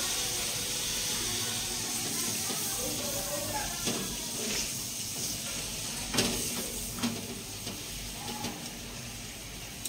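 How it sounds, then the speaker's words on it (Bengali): Bread toasts in butter in a pan with a steady, broadband sizzling hiss, while voices can be heard intermittently nearby. "প্রথমে একটু ওই বাটা দিয়ে ব্রেডটা সেঁকে নিব"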